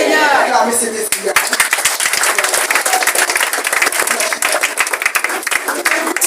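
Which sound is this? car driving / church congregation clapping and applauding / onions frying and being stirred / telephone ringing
church congregation clapping and applauding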